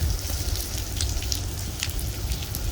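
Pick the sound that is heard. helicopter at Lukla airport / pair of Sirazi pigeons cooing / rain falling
rain falling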